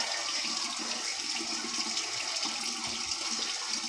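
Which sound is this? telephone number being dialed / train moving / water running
water running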